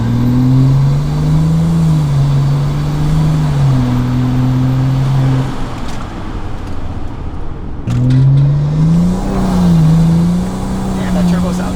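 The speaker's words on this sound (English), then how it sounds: "Damn, that turbo sounds good." A turbocharged car engine accelerates loudly in two pulls separated by a brief lull, heard from inside the car with a steady droning tone.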